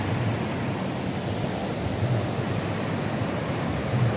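Waves at Karang Tawulan beach produce a steady, broad roar of surf throughout, with a soft low rumble and no voices.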